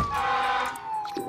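An ambulance siren wails in the SimCity city-building game, a loud, steady electronic tone sliding slowly downward, with a short beep from the game near the end.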